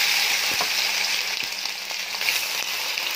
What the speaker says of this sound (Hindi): प्याज को अच्छी तरह से फ्राई कर लेंगे।